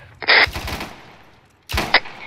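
Video game gunfire comes in two loud automatic bursts, the first rapid and sharp, then a gap before a second burst with a final crack, close and dominant with no talk over it.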